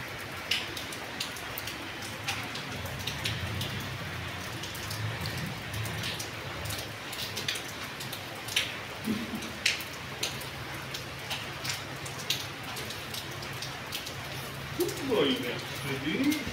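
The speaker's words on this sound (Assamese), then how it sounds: "দেখিছে বৰষুণ আহিয়ে আছে, বৰষুণ পৰিয়ে আছে" Steady rain falls in a nighttime downpour, a dense hiss of drops with scattered sharper taps and drips on nearby surfaces throughout.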